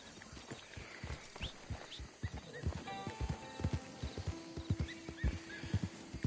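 A horse in the Red Dead Redemption 2 game clip-clops along at a steady walking rhythm with a brief neigh midway, fairly faint overall.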